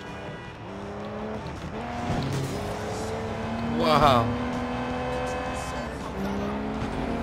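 A car chases a van through city streets in the video game Sleeping Dogs, engines droning and revving with a brief tire squeal midway, while a voice speaks over the continuous motor noise.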